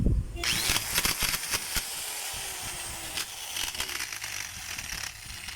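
A noisy DeWalt DW810 4-inch angle grinder runs steadily with a harsh, grinding whine after a bump as it starts, fairly loud and close, with brief faint talk.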